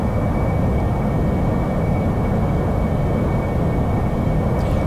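A steady, loud jet engine roar from an AV-8B Harrier in the DCS World flight simulator, running continuously through a carrier takeoff or hover with a faint high whine above the broadband rumble.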